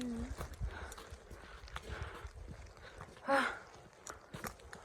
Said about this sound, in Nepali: आउँदाखेरि घोडा चढ्दैछ यहाँ गधा हो कोही नि घोडा हो कि गधा हो थाहा छैन है